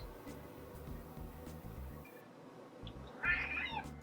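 A single short cat meow rises late, faint over a steady droning musical background with no talking.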